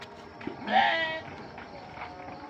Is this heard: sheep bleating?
yes